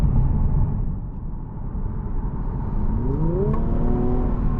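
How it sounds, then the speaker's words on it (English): From inside a 2021 Infiniti Q60 Red Sport 400, a steady engine drone gives way to a rising rev as the car accelerates near the end, with road noise underneath. "the motor sounds amazing. Like, the engine has a great sound."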